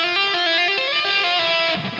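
A quick, smooth electric guitar phrase of tapped and slurred notes runs down in pitch, bright and distorted, ending with a brief sliding flourish.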